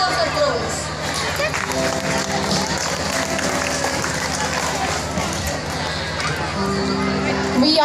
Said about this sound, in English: Once again, please give a big round of applause.